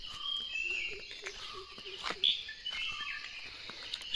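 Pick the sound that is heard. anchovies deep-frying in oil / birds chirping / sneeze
birds chirping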